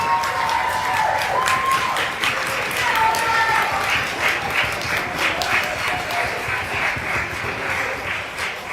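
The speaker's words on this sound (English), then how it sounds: "please give a round of applause for the member for Roxborough Argyle" Sustained applause from a debate audience as a member is called up for third place at an annual debate, dense clapping held steady throughout with a bright, crowded texture.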